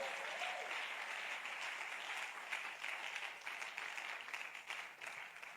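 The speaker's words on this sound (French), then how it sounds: "Et puis acclame pour la dernière fois." A church congregation claps and cheers during a Sunday sermon. The applause is dense and sustained, filling the room for the whole stretch at an even loudness, with a faint murmur of voices mixed in.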